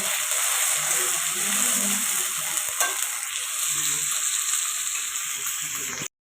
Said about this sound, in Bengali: পেঁয়াজটা ভাজা ভাজা হয়ে গেছে এবার আমি ওর মধ্যে আদা রসুনের পেস্টটা দিয়ে দেবো